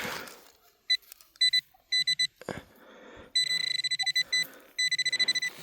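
A metal detector pinpointer searching for a buried Roman-era coin gives short bursts of rapid electronic beeps, sparse at first and then quicker runs, close by amid soft rustling of soil and handling.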